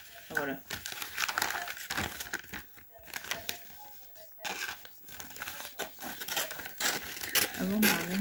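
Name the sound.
sticky tape and wrapping being handled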